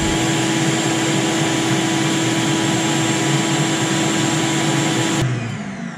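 A vacuum cleaner runs with a steady loud whine close by for several seconds, then switches off and its motor winds down at the end.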